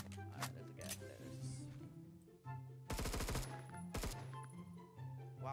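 Full-auto gunfire in the Roblox shooter Phantom Forces comes in a few rapid bursts of sharp shots amid game sounds and a recurring musical tone, with a player talking over it.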